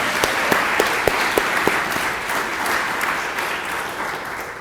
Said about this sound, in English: Let's give one more round of applause to all of our award winners this evening.